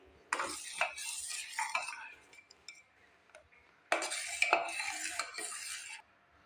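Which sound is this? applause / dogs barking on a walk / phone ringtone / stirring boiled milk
stirring boiled milk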